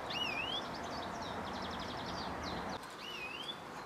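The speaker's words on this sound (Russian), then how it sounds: "и птичка так поет тоскливо" A songbird sings near nests in a rural garden plot, thin whistled phrases and rapid trills repeating at moderate volume over a steady background hiss.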